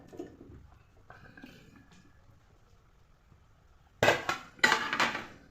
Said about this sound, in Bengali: এবারে চিকেনগুলো ঢেলে দেবো